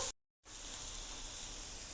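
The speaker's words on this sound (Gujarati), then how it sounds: "થોડું સોફ્ટ થાય ત્યાં સુધી સોતળવાનું છે" Green onions and green chilli frying in a pan give a soft, steady sizzle that resumes after a brief silent gap and holds evenly to the end.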